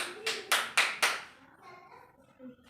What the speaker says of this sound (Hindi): तो आपको मैं ताली बजाऊंगी तब तक गेम आगे बढ़ाना है